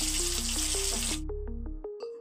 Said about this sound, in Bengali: ফিশ বিরিয়ানির জন্য আমাদের মাছটা ভাজা হচ্ছে